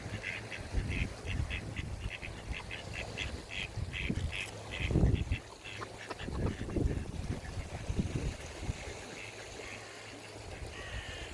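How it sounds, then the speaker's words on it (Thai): A run of rapid duck quacks, then scattered quacks, over a continuous low outdoor rumble like water or a motor. "อ๋อเป็ดตัวผู้หัวสีเขียวนะคะ"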